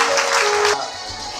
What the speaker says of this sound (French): On applaudit encore pour le prophète.